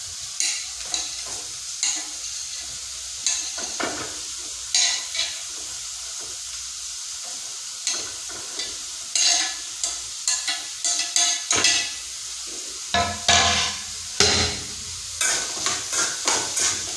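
Chopped ridge gourd stirred and tossed in hot oil in a pan, with a steady sizzle under repeated scraping strokes of a spatula that come in irregular bursts, close and clear, with no talking.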